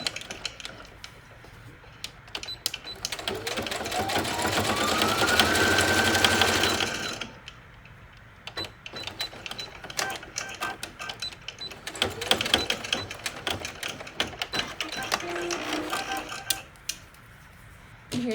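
A sewing machine runs a straight stitch across a hem on fabric cut from old basketball shorts, a steady rapid mechanical whir that stops and restarts in bursts, with close, moderately loud clatter.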